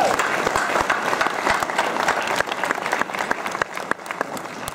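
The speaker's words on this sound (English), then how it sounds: "Let's give her one more round of applause." A crowd at a fall gala applauds with a dense, steady patter of many hands that stays loud and close, easing slightly toward the end.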